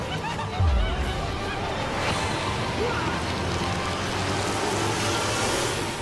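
Rain conjured by a spell in the video game Divinity: Original Sin falls as a steady, dense hiss for several seconds, with a low thud near the start and faint voices and game noise in the background.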